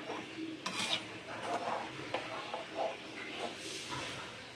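Dal being stirred in a kadai on the stove: soft scraping and light metallic clinks of a spoon against the pan, steady and close, with no talking.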